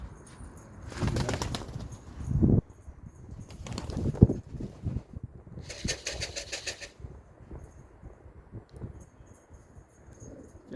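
Flocking pigeons take off and fly past, their wings flapping in several loud, fluttering bursts separated by quieter stretches outdoors.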